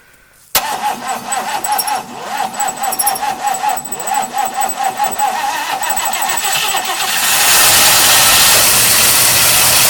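A 1955 Pontiac Chieftain sedan engine cranks and catches, sputtering unevenly before settling into a loud, steady rumbling idle close by.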